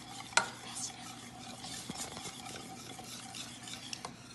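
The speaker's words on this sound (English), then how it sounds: "Okay, so then you're going to mix in your batter." Vanilla extract being stirred into brownie batter in a bowl, a steady soft scraping and mixing with a sharp clink early on and occasional light utensil knocks, fairly quiet throughout.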